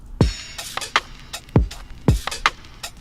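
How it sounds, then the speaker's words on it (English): Lo-fi drum and percussion loops from the Lo-Fi Dreams pack in HALion Sonic 7, with a thumping kick, crisp snare hits and scratchy percussive ticks in a steady, relaxed groove. "I brought in a few drum and percussion loops from the Lo-Fi Dreams pack."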